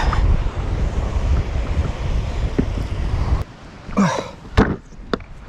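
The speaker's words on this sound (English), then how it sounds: "pretty windy" Strong wind buffets the microphone over crashing surf on an uninhabited island shore during ocean squalls. The roar is loud and continuous for a few seconds, then drops to quieter gusts with sharp bursts.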